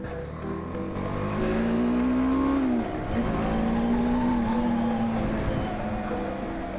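A BMW G 310 R single-cylinder motorcycle rides through Seattle streets, its engine note rising in pitch, dipping briefly, then climbing again, loud and close under some wind noise.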